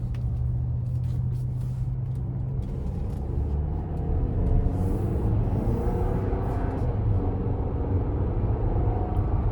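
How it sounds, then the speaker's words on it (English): A 2024 GMC Acadia Denali in sport mode pulls out of a corner, its engine a steady low rumble rising gently in pitch under throttle, heard from inside the cabin with light road noise and no talking. "So I'm gonna go into sport mode and just give it a little pull coming out of this corner."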